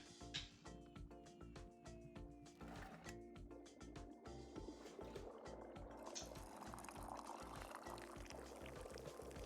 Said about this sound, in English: pull the rope you see here in order to pour the tea into the cup